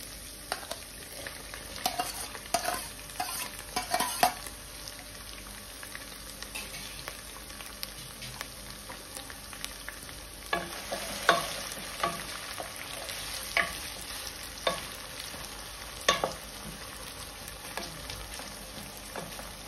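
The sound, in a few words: vegetables stir-frying in a pan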